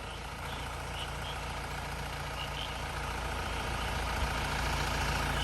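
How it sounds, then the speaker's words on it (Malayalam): A loaded truck tied to a tow rope reverses on a misty hillside road in the evening. Its engine gives a steady, low, rumbling drone at an even level, moderately close, with no talk. "വണ്ടി കെട്ടിയിട്ട് റിവേഴ്സ് അടിക്കാം."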